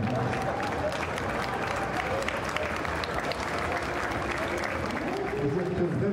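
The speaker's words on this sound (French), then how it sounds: "Applaudissez!" A parade crowd at the Boulogne–Cambrai cavalcade applauds an Andalusian horse troupe with dense, sustained clapping. It is steady and moderately distant throughout, with faint voices mixed in.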